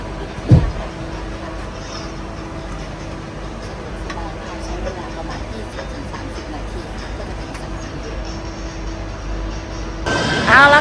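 Steady rumbling and rattling of a moving train interior, with a clunk near the start and a brief swell of noise at the end.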